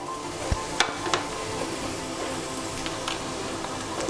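Spices stirred into a sizzling pan of oil for masala vada pulusu, a steady frying hiss broken by a few sharp scrapes and clicks of the spoon, close and fairly loud with no talk.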